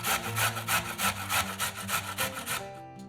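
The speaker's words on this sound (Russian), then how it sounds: "Одну морковь трем на крупной терке." A carrot is scraped across a coarse grater in steady rhythmic back-and-forth strokes, rough and rasping up close, about eight passes before stopping.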